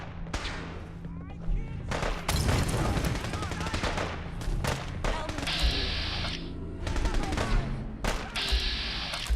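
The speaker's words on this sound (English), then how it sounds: "Who are they shooting?" Dense gunfire from a Fallout 4 firefight rattles almost continuously, mixing rapid bursts, heavy thumping shots and sharper cracks, loud and close throughout with a voice briefly talking over it.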